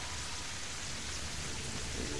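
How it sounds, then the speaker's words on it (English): Steady rain hisses in the Terraria video game, a dense, even wash of droplet noise that holds at the same level with no voices over it. "Get out of the rain, I guess."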